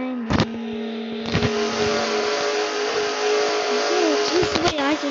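A race car in a NASCAR video game holds a loud, continuous engine drone with shifting pitch and a few sharp clicks, while someone talks over it.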